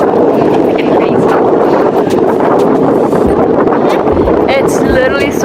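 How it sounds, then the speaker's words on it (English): Strong wind buffets the microphone outdoors at a lakeside picnic spot where ducks are around, a loud constant roar of rumbling gusts with no letup, and a voice speaks faintly in the background. "It's literally so windy."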